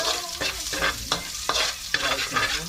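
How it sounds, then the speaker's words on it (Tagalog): Garlic, ginger and onion sautéing in a pan for sarsiyadong tilapia, a steady close sizzle broken by repeated scraping stirs of the spatula every half second or so. "Iginisa na po. Ang bawang. Luya, sibuyas."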